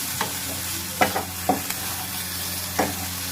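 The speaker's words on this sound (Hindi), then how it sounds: "अब हम इसमें अपना मैरिनेट किया हुआ पनीर डाल देंगे। और इसे चलाते रहना है।" Marinated paneer fries in a pan while being stirred: a steady, close sizzle runs throughout, broken by several sharp scraping strokes of the spatula at irregular intervals.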